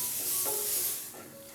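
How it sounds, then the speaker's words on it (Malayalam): Masala and small onions sautéing in a pan make a soft, steady hiss with a couple of faint stirring scrapes, quiet and short. "ഇതുപോലെ വളരെ കുറഞ്ഞ സമയം മാത്രം നമുക്ക് ഒന്ന് വഴറ്റി കൊടുക്കാം."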